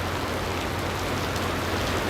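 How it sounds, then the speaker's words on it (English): Steady rain falling during a thunderstorm with a gusty outflow wind, an even, dense hiss at moderate level with no talk. "Even though we're getting rain"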